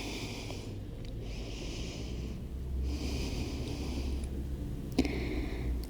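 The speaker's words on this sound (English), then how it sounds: "Take a deep breath in." Close, soft breathing during a Pilates child's pose stretch, with a few audible breaths drawn in and let out at an unhurried pace, and no speech.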